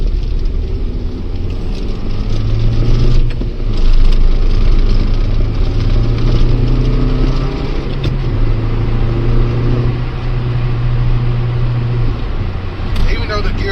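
A Ford Escort GT, an OBD1-era car with a sloppy gear shifter, drives along backroads, its engine a steady low drone with a changing tone as it runs continuously beneath intermittent talking.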